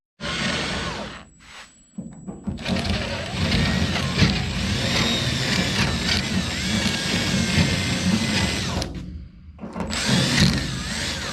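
A power drill whirs steadily for several seconds while drilling holes in the sail panel of a 1969 Dodge Charger R/T, pausing briefly near the start and again toward the end, close and loud.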